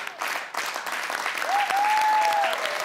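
A studio audience applauds on a student quiz show, with loud, steady clapping throughout and a brief high whistle-like tone partway through.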